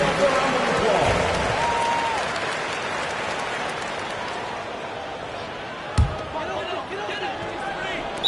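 Simulated arena crowd in the NBA 2K25 basketball video game gives a sustained, dense roar of clapping and cheering throughout. A single sharp thump cuts through late on, and faint voices sit within the crowd noise.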